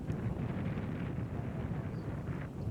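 Hard wind roars outdoors at a disc golf course during a tournament round, a steady, dense rush with microphone buffeting that persists throughout without pause and no voices.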